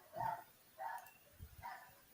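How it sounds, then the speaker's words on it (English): Three short, faint yaps from a puppy somewhere nearby, evenly spaced in quick succession, with no talking over them. "I hear a puppy yapping."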